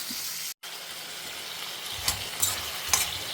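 Half a cup of peanuts fries in a pan with a constant light sizzle, and three short scraping stirs stand out near the end.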